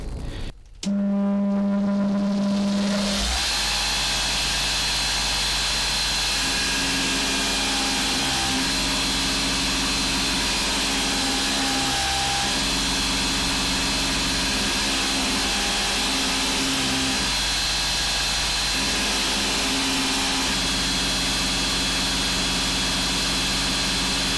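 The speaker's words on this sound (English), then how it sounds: "gonna get onto the belt grinder. I'm on a 600 grit aluminium oxide belt. I want to try and grind out as much of this" A belt grinder running a 600 grit aluminium oxide belt while grinding coarse rust pitting off a knife blade: a steady, loud motor drone with an abrasive hiss that shifts slightly as the blade is pressed and lifted, with no talk.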